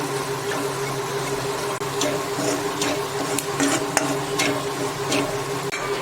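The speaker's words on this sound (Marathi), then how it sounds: "तर आता आपण स्लो गॅसवरती त्याला भाजून घेऊया।" Malvani masala spices dry-roasting in a pan over a low gas flame, a steady soft crackle broken by scattered light scrapes and ticks of stirring, close and moderately quiet, with no talking.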